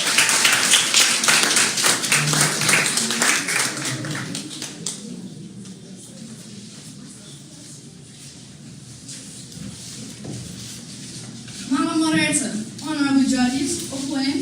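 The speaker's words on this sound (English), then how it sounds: "please clap for Rihanna" Audience applause at an inter-secondary schools debating competition, a loud sustained burst of many hands clapping for a student speaker that fades after several seconds, followed by a voice beginning to speak.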